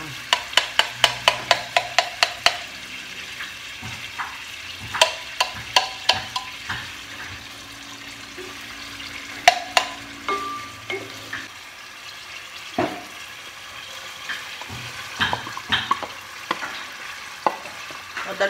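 Food being stirred and fried in a pan in a rural home kitchen, with a steady sizzle and a burst of quick rhythmic scraping and clanking of a utensil at the start, then scattered sharper knocks, close and loud.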